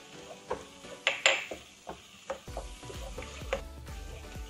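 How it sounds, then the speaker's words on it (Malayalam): Pineapple peda mixture with cardamom being stirred in a pan, soft scraping and clinking spoon strokes with light sizzling, quiet and close, repeating irregularly. "അപ്പം നന്നായിട്ട് ഇളക്കി കൊടുത്തോണ്ടിരിക്കണം."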